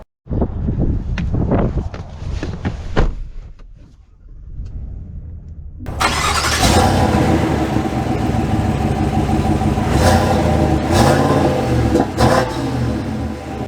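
A 2023 Chevy Silverado 1500 High Country pickup idles with a few revs, then its engine swells into a steady loud drone as it pulls away and drives on.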